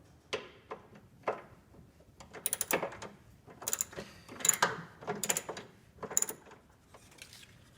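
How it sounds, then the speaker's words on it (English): Upper torque mount bolts being ratcheted in on a Pontiac Fiero GT: quick bursts of metallic ratchet clicks in uneven groups, with small tool knocks between them, close and moderately quiet, with no talk. "Just need to go ahead and bolt it in,"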